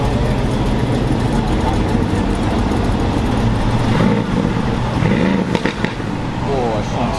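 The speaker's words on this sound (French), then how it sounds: "La Black Series qui passe." A Mercedes-AMG GT Black Series driving past at a car meet, a loud, rough engine roar that holds steady and then breaks up, with people talking over it.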